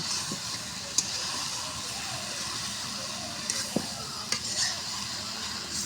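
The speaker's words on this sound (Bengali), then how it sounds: "এখন বেগুন আলুটা সুন্দর করে কষে নিব" Eggplant and potato being sautéed with hilsa fish curry in a pan, a steady sizzle and hiss with occasional sharp ladle taps and scrapes.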